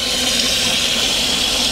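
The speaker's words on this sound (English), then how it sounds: "Water's leaving the system." Water drains steadily out of an automatic self-filling chicken coop water tank, a loud continuous rushing hiss close by with no voices.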